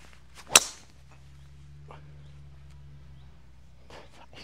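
A golf driver strikes the ball on a tee shot, giving one sharp, loud crack early on, followed by quiet outdoor ambience.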